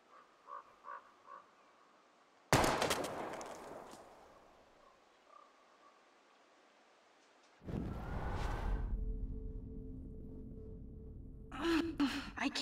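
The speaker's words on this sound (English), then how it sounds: "We're gonna shoot all these bottles without wasting a single bullet." Gunshots fired at bottles in Life is Strange: two loud, sharp blasts several seconds apart, each followed by a lingering echo, with quiet breathy vocal sounds and ambience in between.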